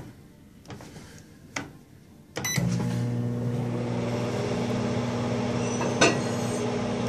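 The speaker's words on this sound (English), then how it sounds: "I'm gonna start the microwave." A few clicks and a beep, then a microwave oven starts and hums steadily with a low electric drone, one sharp tick later on.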